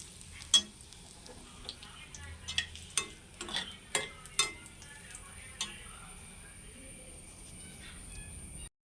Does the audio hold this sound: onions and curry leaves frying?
yes